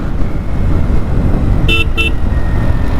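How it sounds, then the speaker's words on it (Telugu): A 2025 Royal Enfield Bear 650 motorcycle horn gives two short, loud beeps in quick succession over a continuous rumble of engine and road noise. "హార్న్ కూడా లౌడ్గానే ఉంది"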